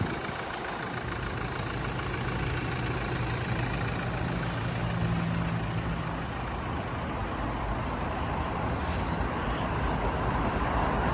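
A 2013 Toyota Fortuner with a 3.0 diesel engine and automatic gearbox idles steadily, a continuous low rumble with constant loudness throughout and no voices.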